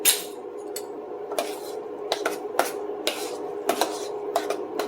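A spoon scrapes and clinks through a Salisbury steak mixture in a bowl, giving irregular sharp taps and scrapes close by, with no talking.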